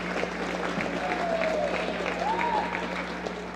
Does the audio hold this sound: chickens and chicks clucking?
no